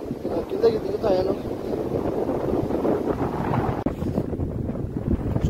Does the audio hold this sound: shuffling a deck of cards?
no